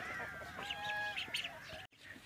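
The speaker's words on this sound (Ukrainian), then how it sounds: "звичайні качки, квакуни" A few nasal duck quacks and calls in quick succession, close by, followed by a brief pause and a softer call.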